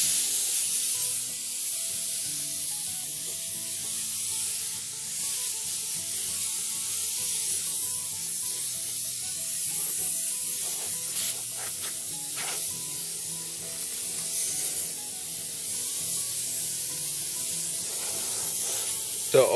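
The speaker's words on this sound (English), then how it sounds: "all you do is just squeeze it and the compressed air comes out, and it makes it really easy to clean off stuff" A can of compressed air duster sprays in a long, continuous hiss that runs nearly unbroken, close and loud, with a few small knocks and handling clicks on a workbench.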